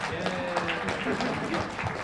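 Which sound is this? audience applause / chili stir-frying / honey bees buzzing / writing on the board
audience applause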